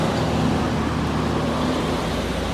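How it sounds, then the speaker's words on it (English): Steady road traffic rumbles past a creekside campground in Deep Creek, Great Smoky Mountains National Park, a continuous broadband wash of passing cars with no breaks. "it's difficult to hear over all the traffic"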